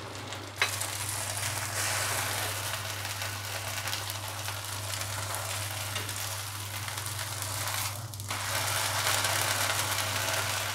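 Sabudana dosa batter with mint, coriander and rice flour sizzles steadily in a hot pan, a continuous close frying hiss over a low constant hum, with a brief clatter near the start and a louder surge toward the end.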